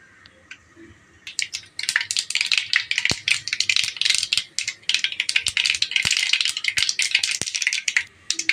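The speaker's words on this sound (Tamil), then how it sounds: "எண்ணெய் காஞ்சதும் கடுகு கடுகு பொரியட்டும்" Mustard seeds spluttering in hot oil, with quiet pan noise giving way after about a second to a dense, loud crackle of sharp pops and rattling bursts that continues to the end.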